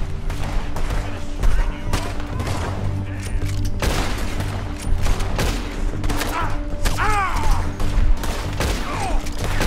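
Dense gunfire from a Red Dead Redemption 2 gameplay firefight, with rapid overlapping shots and booms over a steady background of game sound and music, loud and continuous, with occasional voices underneath.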